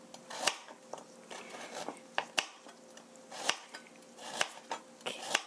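A knife slices carrots into thin 0.3 cm rounds on a cutting board. Crisp, close chopping taps come one by one at an uneven pace, each a sharp crunch followed by a brief scrape, with no talk.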